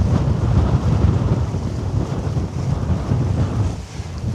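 Strong wind gusts at a harbour where tugboats assist large ships, a loud continuous roar buffeting the microphone with faint water wash beneath, no voices.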